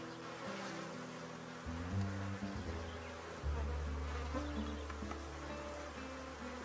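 Honeybees buzz in a dense, continuous drone as a hive is split in half to raise new queens, the swarm close and steady with slight swells in loudness and no talking.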